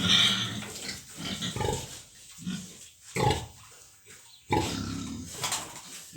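Pigs grunt and squeal in a series of close, loud bursts, with a noisy, enclosed barn feel between calls.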